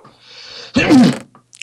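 A single sharp sneeze from one person, preceded by a short breathy intake, loud and close, with faint clicks after in a Minecraft game session.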